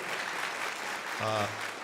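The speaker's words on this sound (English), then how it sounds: "Go ahead and clap, students." Students at a nursing pinning ceremony applaud in a continuous crowd clatter, fairly loud and even, while a brief tonal hum rises near the end beneath the clapping.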